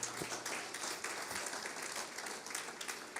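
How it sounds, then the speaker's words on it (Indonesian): A church congregation claps during a Sunday worship service, a quiet, steady patter of many hands that runs evenly throughout without any voices. "Tepuk tangan dulu untuk Tuhan."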